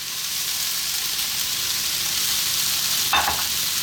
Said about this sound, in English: We really want to fry this rice.